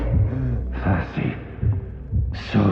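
Heartbeat from the vampire video game Vampyr: a steady, low thudding pulse repeating roughly every half second, moderately loud, with brief breathy bursts layered over it and no talking.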